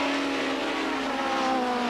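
Three 1990 BTCC touring race cars, nearly 900 horsepower between them, scream past at speed at Goodwood. Their high engine whine rises briefly and stays loud throughout the short burst.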